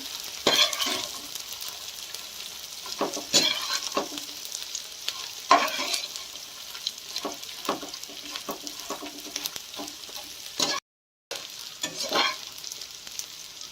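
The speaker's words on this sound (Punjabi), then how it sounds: "ਫਰਾਈ ਲੋ ਗੈਸ ਤੇ ਕਰਨੀ ਹੈ ਫਰਾਈ ਗੂੰਦ" Edible gum (gond) frying in ghee over a low gas flame, a steady crackling sizzle with intermittent stirring scrapes and small pops, close and moderately loud, with a brief dropout near the end.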